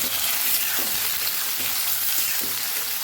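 Potato chips sautéing in hot oil with cumin seeds and asafoetida, a steady close sizzle with a few soft stirring scrapes, no voices.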